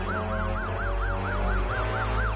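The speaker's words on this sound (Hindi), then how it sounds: "हाँ, गुरु, एम्बुलेंस आ रही है।" A cartoon ambulance siren wails in a steady rising and falling cycle, about four swoops a second, loud and continuous with no talk over it.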